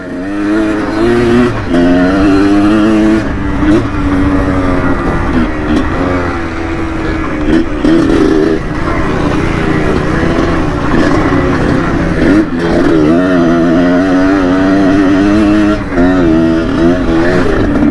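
A Suzuki TS 125 two-stroke motorcycle with a modified exhaust roaring loudly and continuously with a rough, throaty exhaust note, revs rising and falling over road and wind noise throughout.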